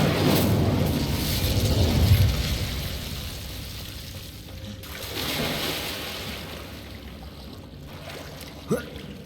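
An Incendio fire spell cast in the video game Hogwarts Legacy: a loud roaring, crackling whoosh of flame that swells and then fades into a softer sizzle, ending with a small sharp pop.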